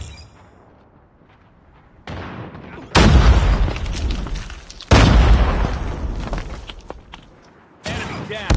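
Grenade blasts in Call of Duty Mobile, two loud, close booms a couple of seconds apart, each decaying into rumbling debris, with a third burst near the end over quieter game ambience.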